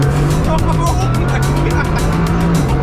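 A Bugatti Chiron Super Sport launches hard under launch control, its engine roaring loudly and continuously with a deep steady drone and a faint rhythmic pulsing, heard close from inside the cabin.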